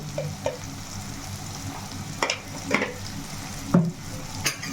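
Chicken with masala, chili powder and salt sizzles in a pan while being stirred, a constant frying hiss broken by several sharp scrapes and clanks of the spoon, close and alone without speech.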